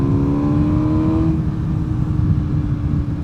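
A motorcycle engine pulls hard and loud at close range, its pitch climbing steadily before shifting and settling into a sustained roar with a rushing, windy edge.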